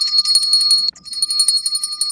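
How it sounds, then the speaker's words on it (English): Ringing of a bell during a temple ceremony, a steady sustained high ringing tone with bright overtones, continuous across the moment with a brief dip partway through. "Ringing of the bell. The ringing of the bell, the opening of the way."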